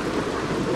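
A low, steady thunder rumble from a storm in ARK: Survival Evolved, broad and continuous, with rain-like hiss layered over it.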